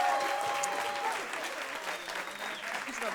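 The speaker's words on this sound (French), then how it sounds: "On l'applaudit bien fort." Comedy show audience applause at a dating comedy show, a moderately quiet, steady crowd clapping that fades slightly over a few seconds, with a brief tonal note near the start.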